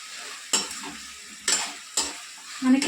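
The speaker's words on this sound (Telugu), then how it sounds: "ఈ టైంలో మనం చికెన్ వేసేసుకోవాలండి ఫ్రై చేసిన చికెన్ మొత్తము చికెన్ తీసుకొని కలిపేసుకున్నాం" Fried chicken 65 pieces stirred into a sizzling masala in a pan, with a steady frying hiss broken by a few sharp stirring scrapes and a louder clatter at the end.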